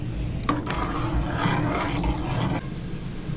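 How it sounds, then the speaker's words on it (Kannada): Water for a rice dish boils in a pot on a home kitchen stove with a steady rushing, bubbling roar and a few faint clinks, close and continuous. "ನೀರು ಚೆನ್ನಾಗಿ ಕುದೀತಿದೆ."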